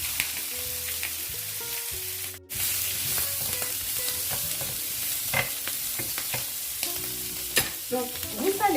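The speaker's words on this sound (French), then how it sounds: "Nous allons faire revenir les gambas ici." Prawns sautéing in fat in a hot pan, a steady close sizzle with stirring scrapes and clinks throughout, after a brief hush, with no talk.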